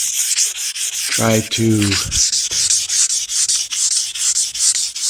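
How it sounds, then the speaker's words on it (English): 1200-grit sandpaper wet-sands the paint on a 2017 Toyota Tacoma in a steady rhythm of close, hissing back-and-forth strokes, with a brief spoken phrase partway through. "This is going to be my final sanding on this puppy"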